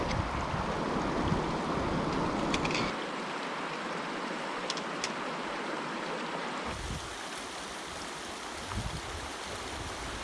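A river flows beneath a bridge in Kings Canyon National Park on the Rae Lakes Loop, late in the season. It gives a steady, broad rushing hiss that shifts in tone twice but never pauses, with no voices.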